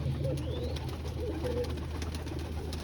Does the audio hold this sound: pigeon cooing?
yes